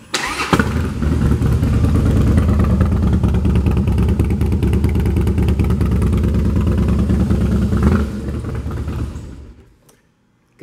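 A 2010 Harley-Davidson Softail Fat Boy with a 2-into-1 performance exhaust starts up and idles with a loud, steady, lumpy rumble for several seconds, then shuts off and fades to silence.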